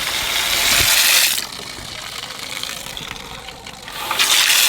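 Water from a faucet gushes into a renovated cast iron farm sink, a loud broadband rush that drops to a softer flow midway and then surges again at the end.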